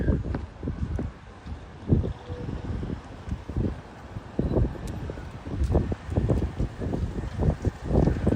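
Gusty wind in St. Petersburg, Russia buffets the microphone in low, uneven rumbling bursts throughout, loud and close.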